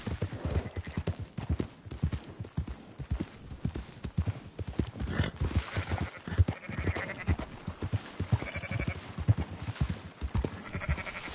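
Sheep bleat repeatedly amid a herd being rounded up in a western video game, their calls mixed with steady clip-clop of horse hooves trotting nearby and occasional whinnies, busy and continuous.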